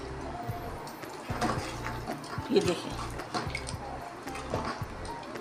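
Water is poured into a cooking pot while preparing a spicy achar gosht curry, giving a few short splashing trickles close by as someone talks over them.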